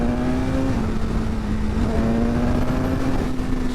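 A 2025 BMW S1000RR sports motorcycle engine while riding, a steady, loud drone at constant speed with a held tone and no talk, heard over wind noise.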